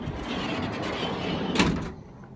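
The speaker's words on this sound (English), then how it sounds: "See, all the vans have side doors for another access point for loading or taking whatever you want out." Sliding side door of a catering van rolling open with a steady scraping rumble, ending in a brief louder clunk near the end, close by, no talking.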